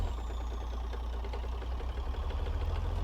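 A 600-horsepower truck engine labors up a snowy hill on an Alaska ice road with snow chains fitted, a deep steady low rumble with rhythmic chugging pulses, close and continuous.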